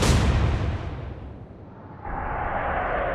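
Warship naval guns fire in the Atlantic Fleet video game with a heavy booming blast that rolls off into a long, low rumble. A steady hum follows the boom.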